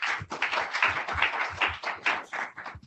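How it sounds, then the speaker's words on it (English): A small group gives a round of applause for panelists at a tax law discussion, a few people clapping in a sparse, uneven rhythm close by, without voices. "So big round of applause for our panelists"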